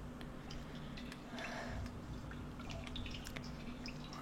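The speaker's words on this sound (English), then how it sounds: "Oh, there's even water dripping from the walls." Water drips from the walls of an underground chamber in a video game, with scattered faint, irregular drips over a low steady ambient hum.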